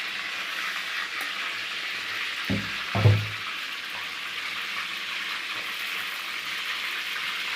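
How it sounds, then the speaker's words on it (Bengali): Cashews fry in hot oil in a kadai, giving a steady, moderately loud hiss. Two low knocks of utensil on pan fall near the middle, and no one speaks. "কাজুটা ভেজে নিলে কাজুর কাঁচা গন্ধটা চলে যায়, খেতেও ভালো হয়।"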